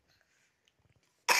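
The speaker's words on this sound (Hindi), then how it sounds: "खांसी हो रही है" A single short, sharp cough bursts out at the very end after near silence, in a village where many people are sick with fever.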